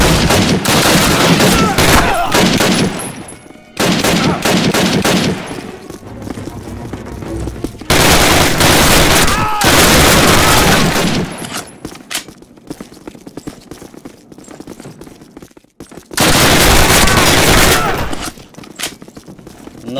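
Gunfire and machine guns rattle in a Call of Duty game in long, loud, dense bursts with brief lulls between volleys.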